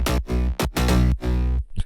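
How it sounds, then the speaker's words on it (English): Unfiltered layered bass synth in FL Studio plays in choppy, distorted pulses, each note bright and buzzy across the full range, with abrupt gaps between four or five rhythmic hits. "So let me play this without the filter."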